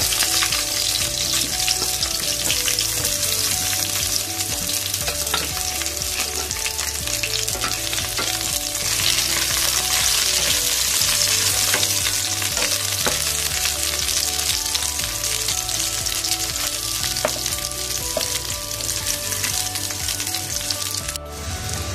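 Eggplant pieces sizzle and fry steadily in hot oil for an Indian brinjal curry, a dense, even crackle close up with occasional stirring scrapes and no talking.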